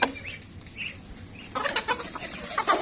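Backyard chickens cluck and flap nearby in a short series of soft calls, then a livelier burst of clucking and fluttering wings as they crowd around.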